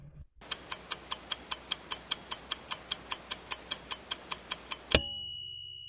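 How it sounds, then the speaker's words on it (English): Steady, even ticking of a countdown timer, about four ticks per second for roughly four and a half seconds, ending in a sharp louder chime-like hit that rings out. "I'll set the timer and give you 5 seconds to think it over."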